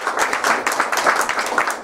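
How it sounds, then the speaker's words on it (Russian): Audience at a stage show applauding, a short stretch of moderate crowd clapping, fairly even and alone without talk. "Аплодисменты, пожалуйста."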